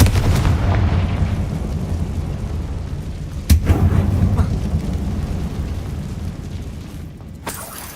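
Confringo fire spell blasts in Hogwarts Legacy, heard as a heavy rumbling burst of fiery explosions with one sharp crack near the middle and a smaller pop later, loud and booming over a continuous roar.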